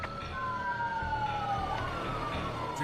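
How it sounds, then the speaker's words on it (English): A fire truck siren wails steadily as it passes along a busy highway, its pitch sliding downward as it goes by, over a constant rumble of traffic. "Here comes the fire truck."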